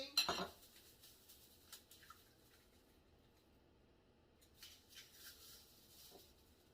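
An egg is cracked against a bowl for a strawberry cream cheese cake batter: one sharp crack and tap at the start, then faint scattered taps and drips in a quiet kitchen.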